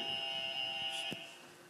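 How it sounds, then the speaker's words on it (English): A game show buzzer or alarm-like electronic tone, a steady sustained buzz with harmonic overtones lasting the whole moment, with a brief sharp click near the end. "We need to hear the buzzers."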